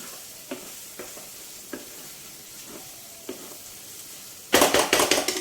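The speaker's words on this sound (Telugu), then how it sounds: "కలిపేసుకొని శుభ్రంగా మళ్ళీ ఎర్రగా వేయించుకుందాం." Prawns stir-frying with ginger and garlic in a pan, a steady low sizzle broken by a few stirring knocks, then a louder burst of sharp, crackling frying toward the end.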